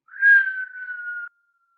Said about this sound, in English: Exhale a whistle sound.